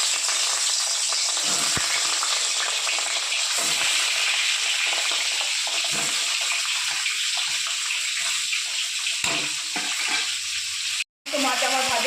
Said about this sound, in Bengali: ওই তেলে বাদবাকি মাছগুলো ভেজে নেব।